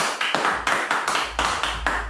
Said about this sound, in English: Round of applause, real fast.